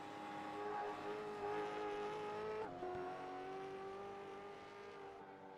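V8 race car engine droning steadily at high revs in a sim racing game at Imola, a sustained harmonic whine that dips as the car shifts midway, then carries on at a slightly lower pitch.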